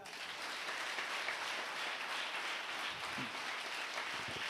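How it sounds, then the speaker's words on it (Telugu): A church congregation at a Sunday service claps loudly and continuously in praise of Jesus, forming an even, dense wash of hand claps with no break. "చప్పట్లు అంటే యేసు ప్రభుకు ఘనంగా ఉండాలి"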